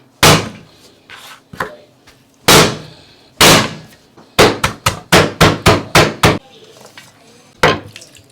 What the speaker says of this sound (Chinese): 把姜拍一下